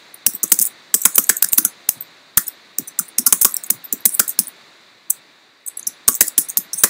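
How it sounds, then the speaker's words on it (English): Close, rapid bursts of keystrokes on a computer keyboard while entering a social media search, with clusters of clicks separated by brief pauses. "So I type that in, and let's see what our results come up."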